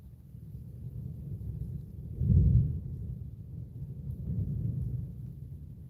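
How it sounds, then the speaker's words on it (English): Thunder from a powerful thunderstorm over Dudley in northwest England rolls in as a low, distant rumble. It swells into one louder peak, then eases into a softer second roll, with no voices. "I just love the sound of that thunder."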